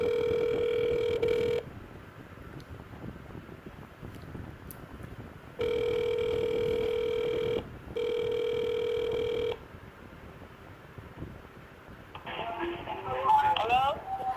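A telephone rings for an incoming call in long, steady electronic tones, three rings separated by pauses, loud and close, with background noise and a short clattering handling sound at the end.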